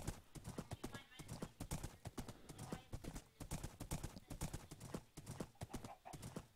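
Rhythmic horse hooves clip-clop steadily in the Minecraft video game over several seconds, loud and close, with people talking over them.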